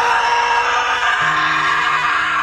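A man screams at length in a dramatic film scene. The hoarse cry is loud, near and sustained, and its pitch shifts partway through over a dense, constant backdrop.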